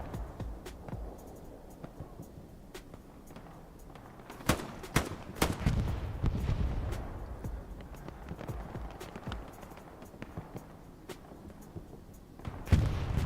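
Machine gun fire in the World War II shooter Hell Let Loose, on the Sainte-Marie map: scattered sharp shots and short bursts, mostly distant and fairly faint, with a denser cluster partway through over low battlefield rumble.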